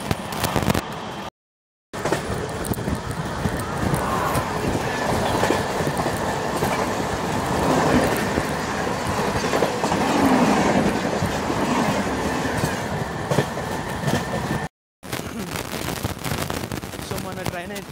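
Satavahana Express running with LHB coaches, a loud continuous rumble of wheels on rail with rhythmic clickety-clack from nearby, the roar holding steady throughout apart from two brief dropouts.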